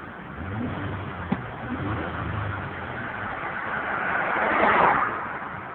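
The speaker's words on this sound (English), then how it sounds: "That car revs up great beautifully too." A 2003 Ford Taurus engine runs steadily with a low rumble, then climbs in pitch and loudness as it revs up near the end, with a single sharp click early on.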